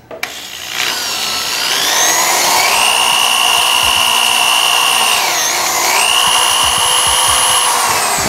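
A power drill fitted with a thicker bit bores into a Suzuki Katana 600 motorcycle handlebar, its loud, close, high motor whine running steadily for about eight seconds and dipping briefly in pitch midway as the bit loads up.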